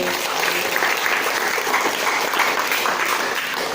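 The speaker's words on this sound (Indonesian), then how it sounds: "Oke, tepuk tangan dulu." Classroom group applauding together, a steady dense patter of many hands clapping at close range throughout, with a few voices faintly mixed in.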